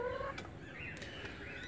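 Desi golden misri hens give a few soft clucks and short calls close by in a quiet coop, brief and fairly faint.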